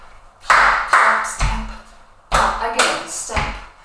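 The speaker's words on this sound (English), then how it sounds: "Step and a clap, step and a clap" Body percussion in a dance routine: a handful of sharp hand claps and stamped steps in an uneven rhythm, close and fairly loud, with brief gaps between hits and no talking.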